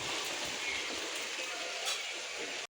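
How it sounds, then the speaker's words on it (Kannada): Heavy rain pours down outside, a dense continuous hiss of drops close by that holds steady before cutting off abruptly at the end. "ಜೋರು ಐತ್ರಿ ಮಳೆ."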